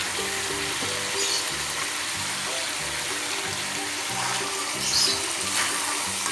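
Steady frying sizzle of chicken cooking in a pan with basil and spring onion, constant and close, running without a break.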